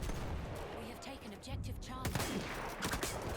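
Gunfire in the video game Battlefield 1, with dense rapid shots and distant explosions rumbling continuously, under someone speaking.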